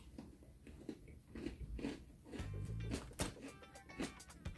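Biting into a Great Value salted caramel creme sandwich cookie, with a few close crunchy bites and chewing, fairly faint and with no talking.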